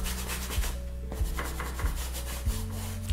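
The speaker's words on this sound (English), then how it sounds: "I'm going to just block in and scrub this colour on nice and thin" Brush scrubbing thin dark green oil paint onto canvas, rhythmic rubbing strokes at a close, moderate level, about four or five scrapes in steady succession with no speech.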